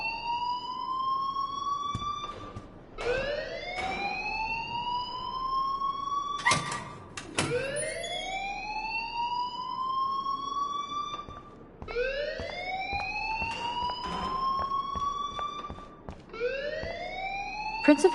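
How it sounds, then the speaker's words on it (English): A rising, wailing alarm repeats in long sweeping cycles through a school scene in the video game Life is Strange, loud and steady, with occasional sharp knocks and a voice heard faintly beneath. "please turn off that alarm since that's your job"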